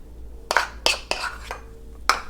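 Mayonnaise, lime juice, garlic, salt and pepper stirred together in a bowl for a garlic aioli, with a handful of sharp utensil clinks and scrapes against the dish spaced irregularly, close and moderately loud.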